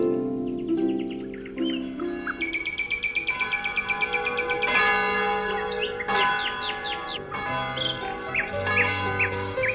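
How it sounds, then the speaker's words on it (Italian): Church bells ring in a mountain valley while small birds sing nearby, chirps and trills layered over the steady, resonant bell tones across the whole stretch, with no talking. "nella valle suonavano le campane e gli uccellini cantavano felici"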